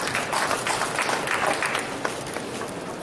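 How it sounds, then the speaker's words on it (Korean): Audience at a product launch show applauds as a company representative comes up, a steady dense wash of clapping with no pause. "대표님 나오실 때 큰 박수 부탁드리겠습니다"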